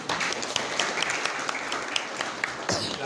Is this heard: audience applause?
yes